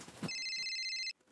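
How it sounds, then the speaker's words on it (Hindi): A mobile phone ringtone sounds once as a bright, steady electronic tone lasting about a second, fairly quiet, alone with no talking. "मुझे सेठ जी के मोबाइल का रिंगटोन क्यों सुनाई दे रहा है?"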